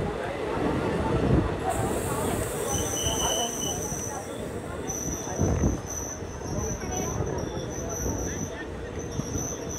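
A train runs on the Katwa to Azimganj line, giving a continuous close rumble of wheels on rails with high metallic squeals and whines above it and a background murmur of passengers' voices.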